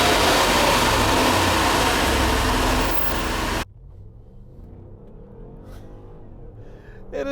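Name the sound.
Mercedes ML63 AMG supercharged SUV driving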